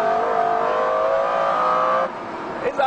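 A McLaren F1 engine revs hard through a long corner with mild oversteer, a loud rising multi-toned wail, then a sudden drop on a gear change near the end.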